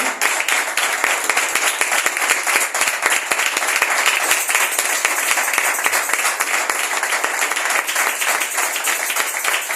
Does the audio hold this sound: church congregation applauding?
yes